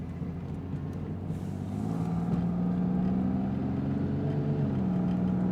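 A 1991 Chevy Lumina Euro engine hums steadily from inside the car, rising slightly in pitch as it drives along, a continuous low drone with no talk.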